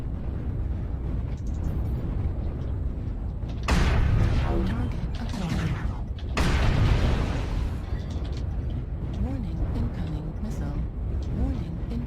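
Missile explosions in the mech combat game MechWarrior Online, two loud booming bursts around four and six and a half seconds over a constant rumbling battle din, with a voice talking throughout.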